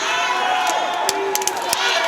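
Crowd at a swimming match in Budapest, a loud continuous roar of cheering and shouting with a few sharp whoops and claps breaking through, close and filling the space.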